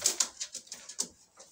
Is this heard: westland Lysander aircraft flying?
no